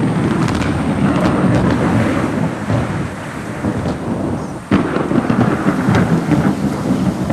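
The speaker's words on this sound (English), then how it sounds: "Only when the rain begins in earnest does Nkosi head for the shelter of the burrow." Heavy rain pours steadily in open African meerkat country while thunder rumbles low and long beneath it, with a louder crack of rolling thunder breaking in midway.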